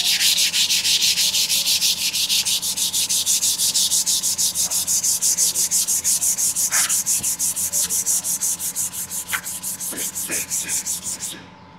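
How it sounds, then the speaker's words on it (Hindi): Hand sanding an MDF board with sandpaper in one direction, steady loud rhythmic rasping strokes at a fast even pace, close up and continuous, ending abruptly. "तो इसे चलो अभी पहले जल्दी से पूरा सैंड कर लेते हैं।"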